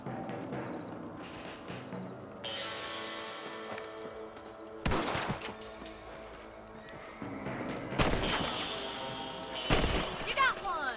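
Rifle shots ring out at rabbits in the Red Dead Redemption video game, sharp cracks spaced several seconds apart over game ambience with horse hooves and neighing; voices are heard between shots.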